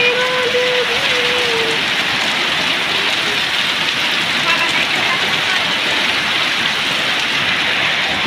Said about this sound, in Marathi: बघा हे बघा किती मस्त पाऊस पडायला लागलाय बघा